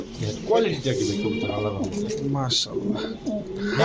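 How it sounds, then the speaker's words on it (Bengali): Pigeons coo repeatedly at a busy pigeon market, soft throaty calls layered with nearby voices of people talking and selling. "দেখেন একদম টপ ক্লাস কবুতর"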